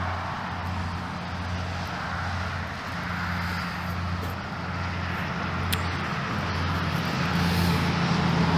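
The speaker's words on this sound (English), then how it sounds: "I know the traffic is really bad." Steady road traffic rumbles beside an old cemetery, a continuous low drone of passing cars and heavier vehicles that stays fairly loud throughout with no voices.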